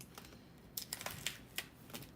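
Fingers type on a computer keyboard nearby, giving a short run of crisp, uneven key clicks after a quiet start. No one speaks.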